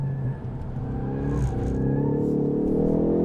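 A Ford Focus ST accelerates hard on a race track, its engine note climbing in pitch through a gear and swelling louder and closer toward the end.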